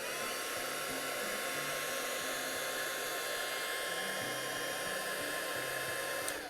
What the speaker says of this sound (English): So I'm going to go ahead and zap it with my heat tool.